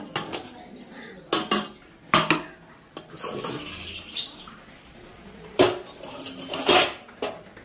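A metal lid is lifted off a pot of boiling jujubes, with several sharp clanks and clatters of cookware scattered over a few seconds and faint birdsong in the background.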